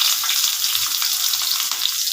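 Green chillies and onions fry in oil with a dense, bright, steady sizzle, loud and close throughout the short stretch, without voices or breaks.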